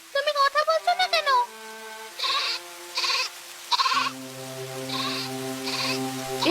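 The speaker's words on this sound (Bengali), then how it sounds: "ছাগলের ঘর থেকে কান্নার শব্দ আসছে কেন?" A goat cries from its shed during rain: a rapid burst of wavering bleats, then several separate louder cries spaced out over sustained steady background tones.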